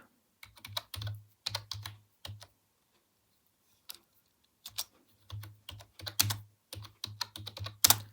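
Bursts of typing on a computer keyboard, close and clear, with clusters of rapid key clicks separated by short pauses and a quiet gap near the middle.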